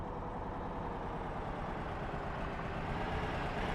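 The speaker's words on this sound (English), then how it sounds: "Friendly truck." A truck engine in the Arma video game drones steadily at low volume, a faint heavy rumble that holds even with no voices over it.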